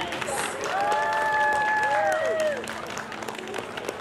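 A pageant audience applauds the contestants at a senior queens pageant during a town canal festival, with steady clapping and a few tonal whistles or cheers rising over it before the applause thins out toward the end.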